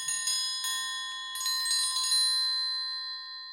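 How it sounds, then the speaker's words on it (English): An orchestral triangle is struck several times in a bright, ringing pattern. Its high metallic tones overlap and shimmer, then decay gradually, with no voices present. "Triangle,"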